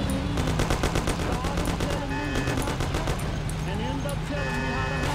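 Rapid bursts of machine-gun and gunshot fire crackle through a Mafia video game shootout, steady repeated volleys at moderate level over a background music bed.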